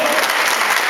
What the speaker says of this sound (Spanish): Denle un aplauso a ese maestro, se lo dio, se lo ganó.